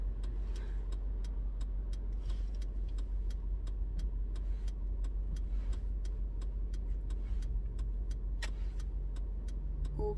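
A car engine idles low and steady in slow traffic, a faint constant hum with a regular ticking, like an indicator, clicking over it.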